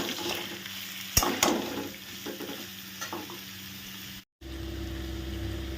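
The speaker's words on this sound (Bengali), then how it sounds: "চিনি দিয়ে ভালো করে এটাকে নেড়ে নাও নাড়তে থাকে ভাজতে হবে" Papaya curry with sugar stirred and fried in a pan, giving a steady close sizzle with a few sharp utensil scrapes and clacks early on and a brief dropout near the end.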